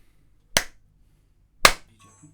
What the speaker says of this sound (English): Shall I clap or shall you this time? 2 claps.